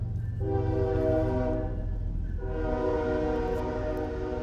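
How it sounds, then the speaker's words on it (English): A train rolls past a trackside home in Georgia, its horn sounding two long, loud blasts over the steady rumble of the cars on the rails. "there's the train"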